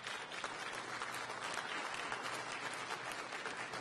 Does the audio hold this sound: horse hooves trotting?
no